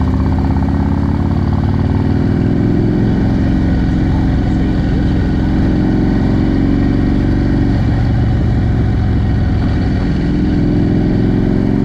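Harley-Davidson motorcycles ride through New York City traffic in extreme heat, a continuous loud engine rumble with wind and road roar throughout, rising slightly in places as the bikes accelerate.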